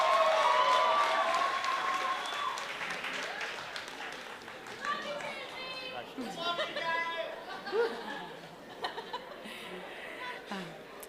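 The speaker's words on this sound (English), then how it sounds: "Can I get a round of applause," Guests at a wedding reception applaud the newlyweds as they are introduced, with clapping mixed into lively crowd chatter and laughter, swelling and fading across the room while voices carry on.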